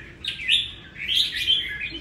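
A red-whiskered bulbul, a clean bird of two and a half seasons, calls while fighting, giving a run of bright, close chirps and tweets in quick uneven bursts over faint background noise.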